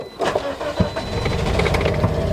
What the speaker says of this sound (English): The car start. Really? That was fast.